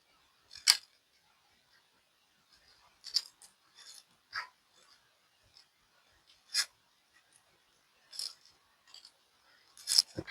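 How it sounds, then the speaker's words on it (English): Four screws fitted into the extruder lid of a Bambu Lab X1C 3D printer, giving scattered sharp little clicks and ticks at irregular intervals against near silence. "And then you just insert all the 4 screws."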